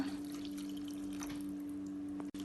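Thin coconut milk trickles and drips softly into a bowl, close and quiet, over a steady low electrical hum.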